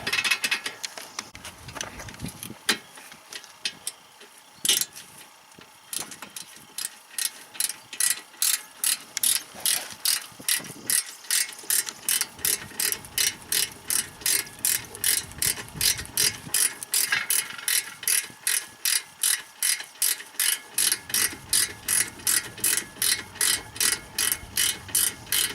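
A socket ratchet snugs a bolt on the front brakes of a BMW E36 3 Series during a pad and rotor job: a few scattered clicks, then a long, steady run of rapid, loud, close ratcheting clicks with no talk.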